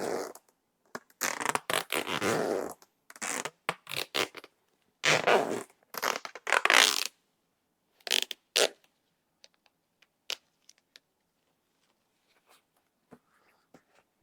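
Clear tape is ripped off the roll in several loud, close, scratchy bursts while taping a goalie glove shut, then sparse quieter crinkles and handling noises.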